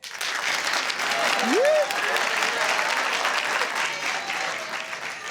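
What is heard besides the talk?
audience applause voting in comedy show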